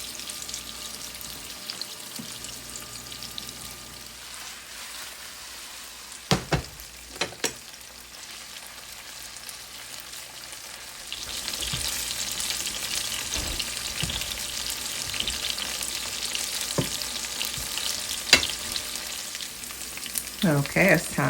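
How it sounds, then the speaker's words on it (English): Fish frying in a little avocado oil in a pan sizzles and crackles, a quiet hiss at first with a few clatters, then swelling into a louder, steady bubbling fry up close. "And I am just frying them in a little bit of avocado oil."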